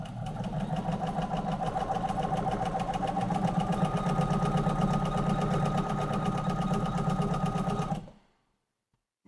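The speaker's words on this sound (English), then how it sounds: "So I'm going to sew this one together" A sewing machine stitching seams in white fabric with black thread runs steadily with a fast, even mechanical whir and rattle for about eight seconds, then stops dead into silence.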